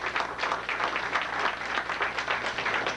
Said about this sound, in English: give the good life a good round of applause for letting us have this program